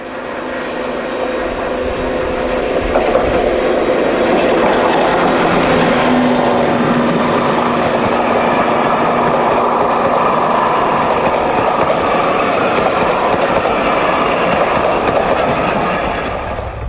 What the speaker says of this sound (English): Deltic 19 at Darnholm in May 2008, also economising on diesel fuel